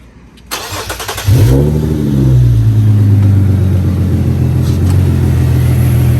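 An Infiniti G37 Coupe engine cranks and catches, then settles into a loud, steady idle with a low rumbling hum, close by.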